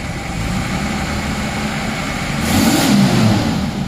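A 1988 Toyota Land Cruiser 60 Series with a worn, smoking 2H diesel engine runs close by in a rough, steady idle, then revs up briefly before settling back down.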